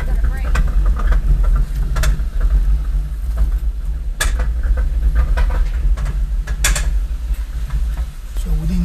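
A 2005 Jaguar X-Type engine idling with sharp, irregular clicks and knocks coming from beneath it near the rear differential, a few louder snaps standing out over the low rumble.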